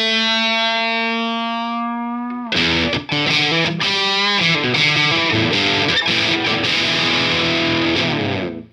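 Electric guitar through a Beetronics Abelha Tropical Fuzz pedal: a long sustained note fades, then loud, thick, buzzing fuzzed riffs and chords play continuously with a saturated, compressed tone.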